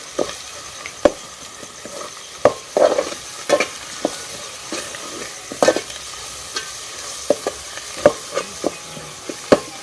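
A spoon scrapes and stirs goda masala, onion and coconut paste in a pot over a wood-fired stove, making close, irregular scraping clicks with a soft sizzle underneath for a chicken and crab curry.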